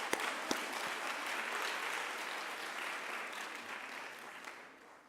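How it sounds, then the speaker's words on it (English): Audience applause at a lecture hall event, a broad wash of clapping with a couple of sharp early claps, holding steady before tapering off toward the end, moderately distant and fairly soft. "Can we give her another round of applause?"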